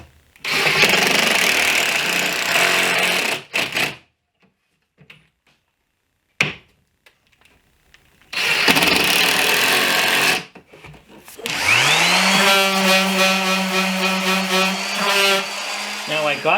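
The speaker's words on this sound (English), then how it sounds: "I drilled some pocket hole screws. One's going to go on the bottom, small one in the middle, and this one at the top. And I will screw those into place." A power drill drives pocket hole screws into a wooden nightstand in two loud whirring bursts separated by silence, followed by a rising, sustained motor whine.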